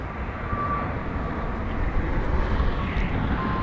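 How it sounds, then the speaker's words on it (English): Steady, loud engine roar of an airplane at LAX, a continuous broadband rumble with a faint tonal whine, no voices. "That is a very unique plane"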